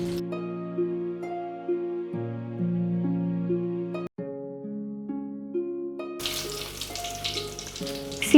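Stuffed chilli fritters (mirchi bajji) fry in hot oil, a dense bubbling sizzle that rises in the last couple of seconds after a stretch of melodic background music.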